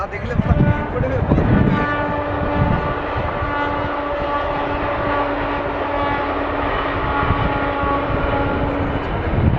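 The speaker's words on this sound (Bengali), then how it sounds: "ওই যাচ্ছে ট্রেন।" A train rumbles past with a long sustained horn blast riding over the rolling clatter of the wagons, loud and close, near a village station on the way to Khirai.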